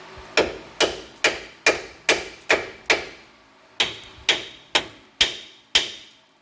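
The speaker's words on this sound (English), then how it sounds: "I'm gonna grab the hammer, see if I can't knock this one out on camera" Sharp metallic hammer strikes knock out a broken metal part on a plow truck, about a dozen blows in a steady rhythm with a brief pause midway, close and loud.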